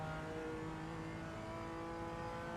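A GT3 race car in iRacing on the Nürburgring closes in from behind, its engine a steady, faint, droning tonal whine that holds constant without any pass-by swell.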